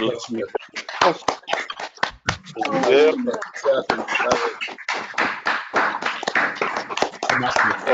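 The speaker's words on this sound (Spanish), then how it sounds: "Para darle un buen aplauso a Armando." Scattered, uneven clapping from online participants on open microphones during a video call, thin bursts of hand claps overlapping with talking voices throughout.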